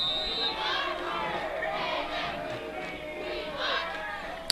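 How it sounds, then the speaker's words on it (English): A crowd at a homecoming night high school football game between Nekoosa and Adams-Friendship keeps up a constant murmur of chatter and cheering, with scattered louder shouts rising from the stands. "Nice crowd on hand tonight."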